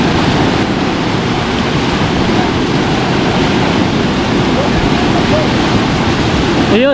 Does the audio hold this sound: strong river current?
yes